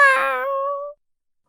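A single cat meow, close and clear, a short tonal cry that rises and then cuts off abruptly, alone.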